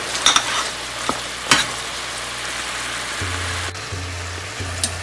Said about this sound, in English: bring it back up to a boil, and then I'm going to cook it for about 2 to 3 more minutes